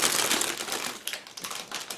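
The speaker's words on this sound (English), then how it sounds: "Now let's open the plastic bag and check the plastic screws." Crinkly plastic bag from an ICM 1/35 Panzerspahwagen P204(f) model kit being opened, with a dense run of close, crackling rustles that thin into scattered sharp crinkles.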